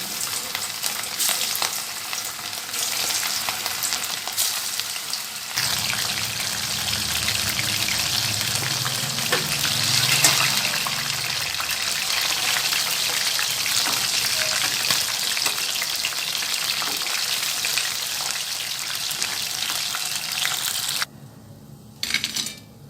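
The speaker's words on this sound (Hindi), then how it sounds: "देखिए माशाल्लाह अच्छे से क्रिस्पी बने। इसी तरह हम सारे फ्राई करेंगे।" Chicken pakoras frying in hot oil, a dense steady sizzle close up with occasional stirring clinks, ending with a brief pause and a few knocks.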